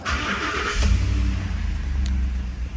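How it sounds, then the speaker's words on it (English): A 2012 Ford Raptor truck engine turns over and catches, a short loud burst of cranking that settles into a steady low idle rumble nearby, with no talking. "let's see what it does when the truck's running"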